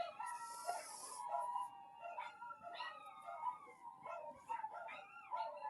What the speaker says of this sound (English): My dog's is howling now.